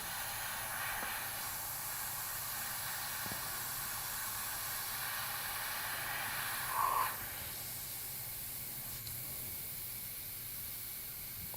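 A spray gun sprays water-based paint for biomechanical airbrush art, a faint, continuous airy hiss that holds steady throughout, with one slight swell partway through.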